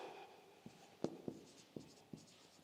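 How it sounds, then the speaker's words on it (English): Chalk or a pen taps and strokes on a board during a class 9 science lesson, a few distinct marks spaced irregularly at close range in a quiet room. "Let me write this."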